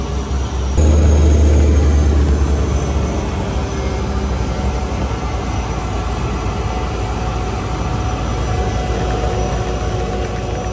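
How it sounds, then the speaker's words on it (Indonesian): A Susi Air Cessna taxis toward the runway, heard from inside the small plane as a loud, steady engine drone and rumble that swells briefly near the start and then holds even throughout. "Pesawat berjalan menuju ke runway dan bersiap untuk take off."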